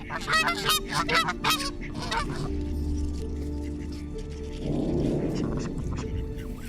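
Several snow geese honk loudly in quick succession, then a lower rumbling and softer calls continue outdoors.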